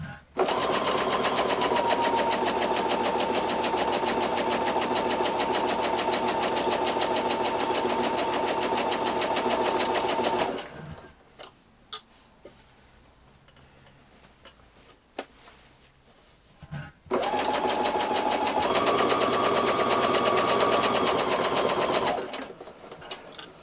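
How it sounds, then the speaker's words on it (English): A sewing machine stitching a T-shirt hem with a twin needle runs in two long steady bursts of fast, even mechanical whirring, close and loud, separated by a pause filled with quiet handling clicks. "So just take your time to stitch over the seam."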